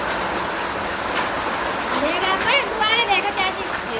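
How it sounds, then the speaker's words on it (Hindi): Hailstones fall with rain, hard little impacts pattering and clattering steadily amid a rushing rain-like hiss, with a voice speaking over the downpour. "ओले गिर रहे हैं। आवाज तो खूब आ रही है।"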